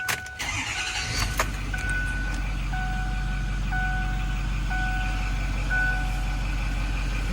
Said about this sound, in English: I'm going to go ahead and crank it up so I can get the exact miles.